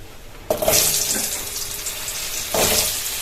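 Potatoes drop into hot oil with a sudden loud sizzle that settles into steady frying hiss, then flares again as more are stirred or added, close and without talk.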